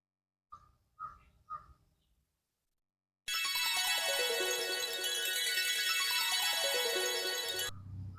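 A bright, looping electronic phone ringtone plays loudly for several seconds, signalling an incoming call, preceded by a few short chirping tones and then a brief low rumble once it stops.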